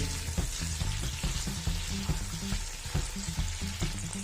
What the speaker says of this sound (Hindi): और इसके साथ ही हम इसमें डालेंगे सोया सॉस 2 टीस्पून, थोड़ा सा पकाएंगे।